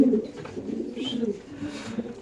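Racing pigeons of a large breed cooing steadily at a Bangladeshi pigeon farm, soft rolling coos repeating close by with no one talking.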